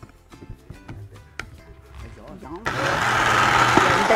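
Blender making a healthy smoothie, starting after some rattling and a voice speaking, then whirring steadily and loudly to the end.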